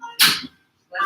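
A single short sneeze in a quiet room during a yoga class, followed by a person's brief spoken response.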